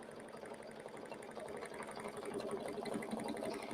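Sewing machine stitching a tack pattern, a box and X, through grosgrain ribbon, a steady fast mechanical whirring hum with rapid needle ticking, close and moderately quiet, no voices.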